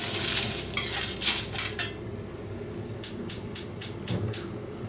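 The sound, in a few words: dry roasting black pepper, cumin, red chili, shah jeera in pan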